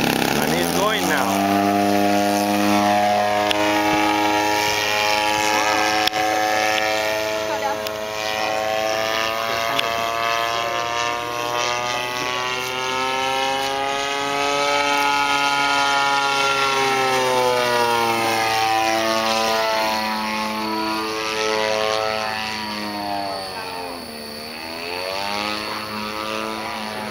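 A 3D Fly Guys Edge aerobatic RC model airplane flies continuously, its propeller motor droning loud and close with a high tonal whine that swoops up and down in pitch through maneuvers.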